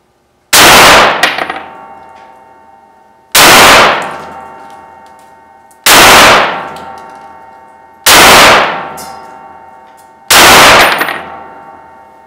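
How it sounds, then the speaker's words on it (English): Five loud, ringing metallic impacts as 308 M80 Ball rounds fired from an 18-inch Kel-Tec RFB at 20 feet strike AR500 steel body armor. Each impact is spaced a couple of seconds apart and followed by a decaying clang. "5 more rounds of 308 M80 Ball out of an 18-inch Kel-Tec RFB at just 20 feet"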